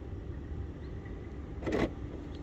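BMW E60 locking through its Comfort Access door handle sensor: a short, sharp mechanical clunk of the locks, brief and close, against a quiet background hum.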